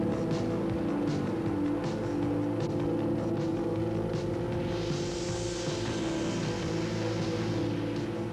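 A Formula Ford race car with a 1600cc Ford four-cylinder engine, around 110 horsepower in a 960-pound chassis, drones loud and steady throughout, its engine note holding constant with a slight rise in higher whine midway.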